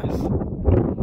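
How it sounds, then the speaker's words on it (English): Strong wind on the summit of Carnedd Llywelyn, Wales, roars across the microphone, a continuous low blustering that swells slightly near the end. "Very windy up here."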